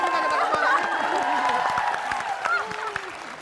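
Studio audience at a television talk show applauding, with clapping and scattered whoops and cheers mixed with audible talking and voices over the top, fairly close and lively throughout.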